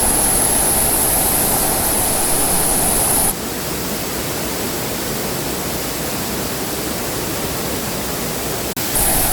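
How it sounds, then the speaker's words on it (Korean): The Ara artificial waterfall in Incheon gives a steady, broad roar of falling water that stays constant and loud throughout, with a faint high hiss in the first few seconds. "이렇게 좋은 폭포가 있는 줄 여러분 아셨습니까?"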